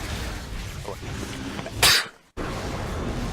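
A single loud, sharp sneeze bursts out close by, followed by a moment of near silence, over a background of steady noise.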